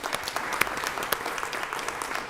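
Audience applause at a school board of trustees meeting as principals are introduced, a steady, dense round of clapping from a room of people, close and continuous for the whole stretch.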